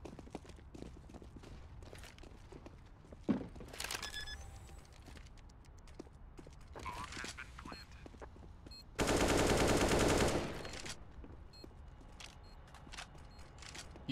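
Gunfire in a professional Counter-Strike match, sparse distant shots and short bursts over quiet game ambience, with one loud sustained burst of rapid fire near the middle.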